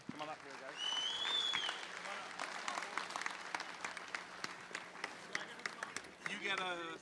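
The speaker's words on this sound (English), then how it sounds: "So let's give them a round of applause." Scattered applause rises in a school gym at a varsity boys' basketball senior night, moderately distant, while voices talk and call out over it and a few squeaks cut through.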